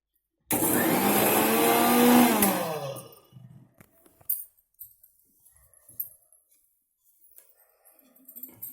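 A mixer grinder runs loud for about two and a half seconds, grinding green chillies and coriander into a chutney with a whining motor tone. It then stops abruptly, leaving quiet clinks and small handling noises.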